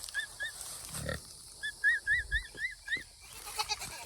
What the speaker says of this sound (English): The goats and pigs are like, excuse me, we're waiting.